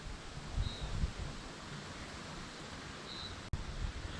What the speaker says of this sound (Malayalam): പിന്നെ കാറ്റിന്റെ കാര്യം കണ്ടോ